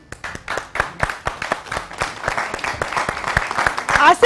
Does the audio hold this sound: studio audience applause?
yes